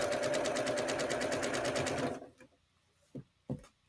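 A sewing machine stitches quilt blocks together with a rapid, even rhythm for about two seconds, then halts, followed by two short clicks or taps.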